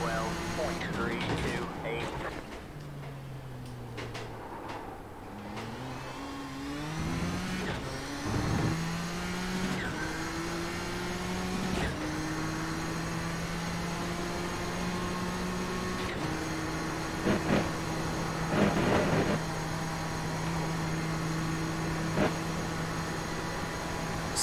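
A Nissan GTP race car in iRacing laps Spa, its engine note climbing in pitch through the gears with sharp shift drops and brief lifts off the throttle. The engine whines loud and close and never lets up.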